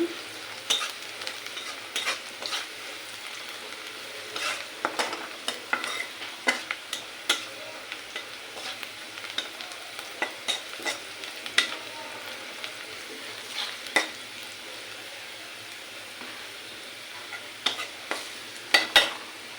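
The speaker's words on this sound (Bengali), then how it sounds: "পেঁয়াজ কাঁচামরিচ ভেজে নিচ্ছি" Onion and green chilies frying and being stirred in a pan, a steady low sizzle broken by frequent sharp scraping taps of a spatula, fairly quiet and close, with no talking.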